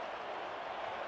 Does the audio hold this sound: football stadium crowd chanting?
yes